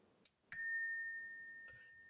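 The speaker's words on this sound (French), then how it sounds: "j'ai oublié de faire sonner ma petite cloche pour le choix numéro 1. Je vais le faire juste pour toi." A small bell struck once, giving a bright, clear ding that rings out and slowly decays, with faint soft knocks just before and after in a quiet room.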